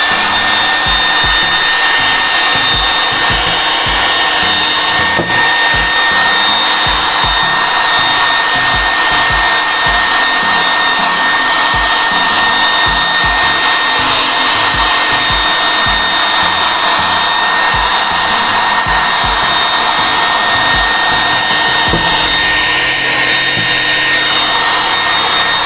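A hair dryer blows steadily for the whole stretch while drying a decorated glass bottle craft, a loud, constant whooshing whine with a faint tonal hum and no pauses.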